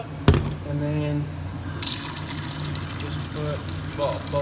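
Water runs and splashes into a bowl of ice in a kitchen, a close, steady pour after a sharp knock at the start, with a voice speaking briefly over it.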